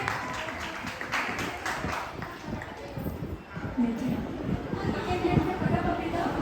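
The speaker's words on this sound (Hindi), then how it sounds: "हमारे छोटे बच्चों के लिए जोरदार तालियां हो जाए।" Dense, steady applause from an audience clapping for young children at a cultural performance event, a continuous crowd of hands sounding moderately close.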